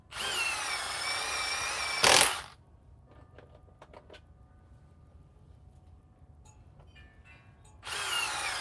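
A power drill whirs loudly for about two seconds, then stops; after quiet pause with small clicks and taps, the drill starts up again.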